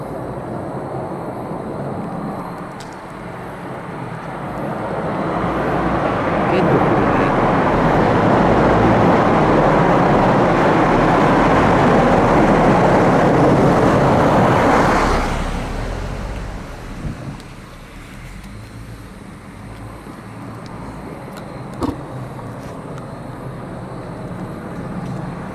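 A car passes through the Kotsubo Tunnel in Kanagawa, its echoing roar swelling steadily over several seconds and then cutting off sharply, leaving a quieter hum and faint clicks.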